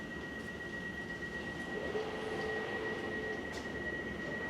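Steady rumble of a London Overground Liberty line train idling at a platform, with a constant high electrical whine and a faint rising tone partway through; no talking.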